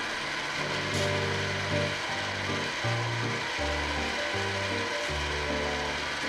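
A metal lathe turning at about 400 rpm takes 0.1 mm facing cuts across the rough, saw-marked surface of a plate, giving a steady, close hiss with a low droning whine underneath and no voices.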